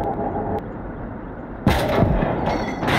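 Tank guns of an SU-122 and a T-34 fire in the WWII video game Gates of Hell, a heavy booming blast bursting in over a low rumbling battlefield backdrop, followed by a sustained roar and a second swell near the end.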